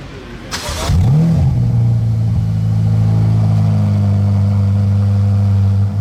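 A Rolls-Royce engine catches with a sharp rev at cold start, then settles into a loud, steady idle with a deep, even rumble.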